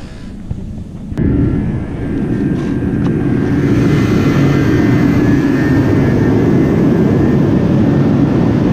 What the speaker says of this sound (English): He's got the heaters going in here